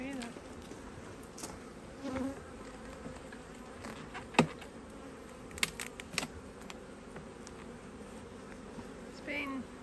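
Honey bees buzzing steadily around a HiveIQ beehive box holding empty frames, a continuous close drone with a few louder knocks and rustles.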